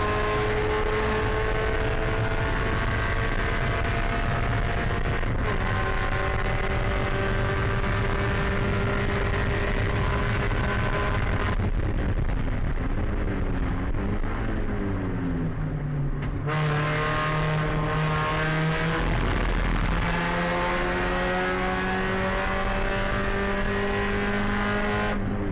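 Spec Miata race cars circle Road America during an SCCA June Sprints race, engines droning loud and continuous as several cars pass with rising and falling pitch, shifting gears, no voices over the track noise.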